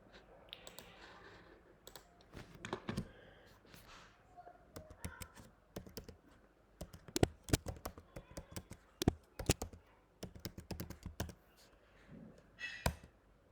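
Java code is typed on a computer keyboard in uneven bursts of sharp key clicks and taps, close and fairly quiet, with pauses between the flurries.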